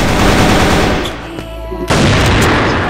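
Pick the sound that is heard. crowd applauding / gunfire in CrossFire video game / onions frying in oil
gunfire in CrossFire video game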